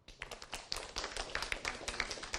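A short burst of dense, scattered applause from a crowd, many hands clapping at once.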